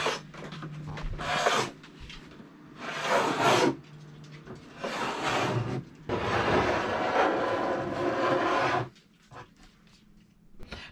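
Wood is being rubbed down by hand before varnishing, heard as several close, rasping sanding strokes in bursts of a second or two. The last pass runs longer, and faint rustling fills the gaps between strokes.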